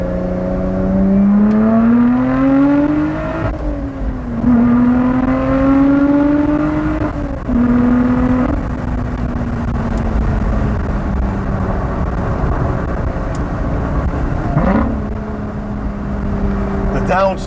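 A Lotus Exige 410 engine revs hard through rising and falling pitch sweeps, with distinct downshift blips and rev matches, loud and close, with a voice or two in the cabin alongside.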